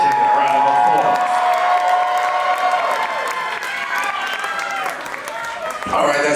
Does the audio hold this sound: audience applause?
yes